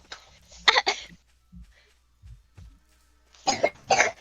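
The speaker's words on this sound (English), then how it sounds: "She's coughing now." A girl coughs in Super Dimension Neptune vs Sega Hard Girls, two short bouts separated by a quiet stretch with a few soft thumps, close and fairly loud.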